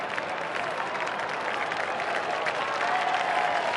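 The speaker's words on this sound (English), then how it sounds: "A bit of clapping you hear in the background." A stadium crowd at an Australian football match between North Melbourne and West Coast claps steadily under broad crowd noise, a dense, even wash of applause throughout.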